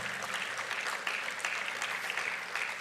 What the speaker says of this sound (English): I would like you to clap very loudly, put your hands together to congratulate APICA